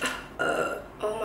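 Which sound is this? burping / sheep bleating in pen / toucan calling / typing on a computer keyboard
burping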